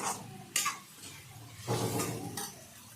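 A spoon scrapes and clacks against a pan while tamarind-leaf egg curry is stirred, with a few sharp knocks and scraping strokes over a low simmer, close and moderately loud.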